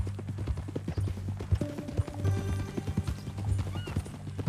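Horse hooves in Red Dead Redemption 2 clip-clop in a steady walking rhythm, close and continuous, with a brief whinny partway through and faint tonal sounds in the background.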